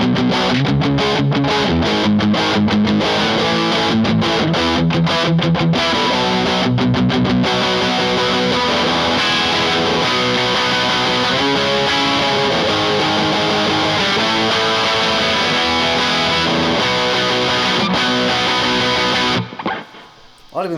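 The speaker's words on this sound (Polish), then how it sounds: "Dobra, i jedziemy z przesterem." Arrow Twincut SG22 Banana Custard electric guitar played through distortion: loud, sustained overdriven chords and riffs run for about twenty seconds, with choppy strums early on, before cutting off near the end.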